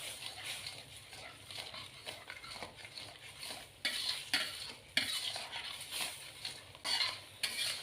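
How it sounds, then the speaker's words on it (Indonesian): A utensil scrapes and stirs seasoned spice paste in a pan with salt, seasoning and sugar, giving repeated rhythmic scraping strokes over a soft, steady sizzle, close and fairly quiet with no talking. "ini lanjut aku masak lagi sampai bumbunya tanak"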